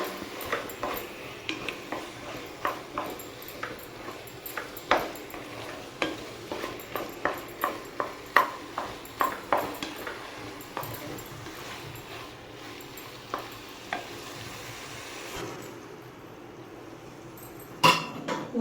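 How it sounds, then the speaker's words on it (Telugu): Pumpkin halwa being stirred in a pan with ghee, a spoon scraping and tapping in a steady irregular rhythm over a soft sizzle, close and clear throughout. "ఇలా బాగా కలపాలి"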